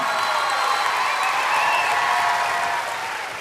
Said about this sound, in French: Et je pense qu'on peut l'applaudir à elle aussi